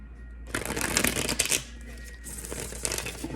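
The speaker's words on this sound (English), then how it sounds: "let me go ahead and shuffle your cards." Tarot cards are shuffled by hand at close range, a quick papery riffling burst followed by softer flicks and rustles.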